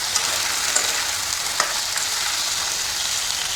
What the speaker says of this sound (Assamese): এতিয়া আমি ফুল ষ্টিমত এই মাংসখিনি ভালদৰে ভাজি ল'ম।